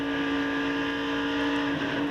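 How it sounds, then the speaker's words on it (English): NASCAR race car in 2002 Pepsi 400 practice, engine at speed with a sustained steady high drone and a brief stumble on the throttle near the end, heard from a distance. "just a little hiccup on the throttle there"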